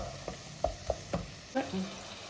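Tomatoes and onions sautéing in a pan for salna, a soft sizzle broken by a few scattered scrapes and clinks of stirring, fairly quiet and close, with no talk.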